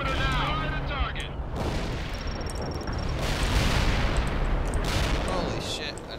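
Airstrike explosions and gunfire from the World in Conflict battlefield video game, a dense continuous roar of blasts and shots with swelling explosive bursts across the whole stretch, loud and sustained, overlaid by faint radio-style chatter and tonal effects.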